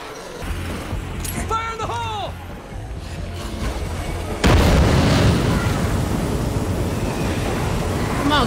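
A grenade in State of Decay 2 goes off with a sudden loud boom partway through, followed by a sustained roaring rumble of fire and debris, after quieter game noise and chirping effects.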